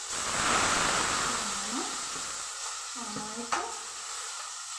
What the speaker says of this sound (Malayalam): ഇതിനകത്ത് ഈ നല്ലെണ്ണയ്ക്കകത്ത് എന്നിട്ട് വഴറ്റണം